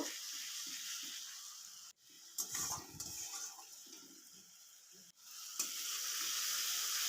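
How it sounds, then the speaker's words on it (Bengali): Tomato paste frying in oil with onion and garlic for a rohu fish curry, a steady broadband sizzle that runs close and continuous, briefly dipping twice as if stirred or lifted. "পেঁয়াজ রসুন ভাজা হয়ে গেছে এবার আমি টমেটো বাটাটা দিয়েও একটু ভেজে নেব"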